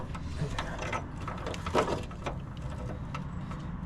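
An old 1970s flaring tool is cranked onto a fuel line end during a Chevrolet Camaro Z28 fuel filter job, producing soft mechanical clicks and creaks that come in irregular bursts over a steady background.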